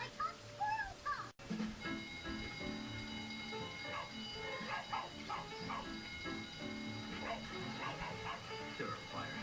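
Several dogs yip, whimper and bark in short, irregular bursts throughout, with a person speaking at the same time.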